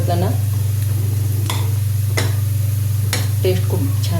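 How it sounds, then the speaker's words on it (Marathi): Spices and turmeric sizzle steadily in a hot pan, with a constant frying hiss and several sharp clicks of a spoon stirring against the metal. "हळद 1 चमचा टाकायची आणि त्याला परत परतून घ्यायचं। मसाले टाकल्यानंतर थोडं 2 मिनटं परतलं"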